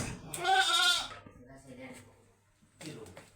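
A goat lets out one loud, wavering bleat close by, followed after a pause by a shorter, fainter cry, in a quiet rural farmyard in the morning.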